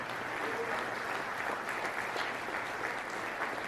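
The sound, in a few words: audience applauding in church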